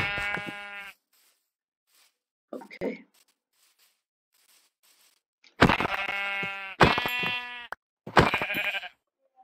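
Sheep in the video game Minecraft give several loud, close bleats, one early and three in quick succession near the end, with a brief spoken word and a short rustle between them.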